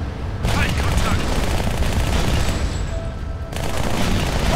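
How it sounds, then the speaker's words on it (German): Heavy sustained gunfire in Halo: Spartan Assault, dense rapid bursts of shots and booms that run nearly continuously, loud and close, with no one speaking. "Dieser Beschuss!"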